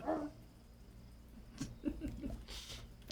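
A dog in the video game Wandersong gives a few quiet, short yips and barks near the middle of the stretch, soft and somewhat distant over a low steady background hum.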